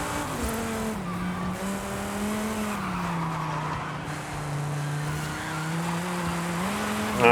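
A race van laps a circuit in a video game, its engine droning steadily with rising and falling pitch through gear changes while tires squeal and skid in corners, continuous and fairly loud throughout.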